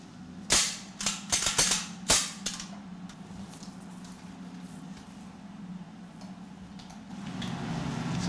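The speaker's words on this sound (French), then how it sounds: "Ça, c'est le pistolet mitrailleur, c'est le Beretta." A Beretta submachine gun, the model issued to various police services, gives a quick cluster of sharp mechanical clicks and clacks in the first few seconds, followed by a low steady hum of the room.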